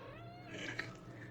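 A Persian kitten gives a single soft, drawn-out meow, faint and close, rising slightly in pitch before trailing off.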